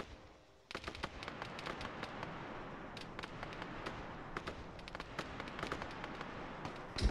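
Distant rattling gunfire in ArmA 3, with scattered cracks and short bursts over a steady rumble of battle that continues throughout, with no voices.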